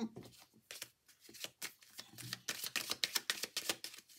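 Petit Lenormand cards are shuffled and drawn by hand, a quick run of crisp riffling flicks and snaps, close and quiet, growing denser and sharper toward the end with faint talk behind.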